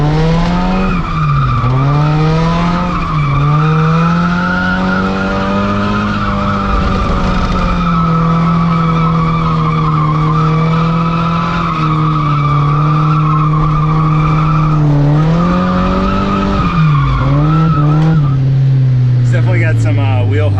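A drifting car with tires squealing loudly and continuously in long sweeping tones, the pitch wavering as it slides, with a stutter of wheel hop partway through; voices can be heard under the squeal.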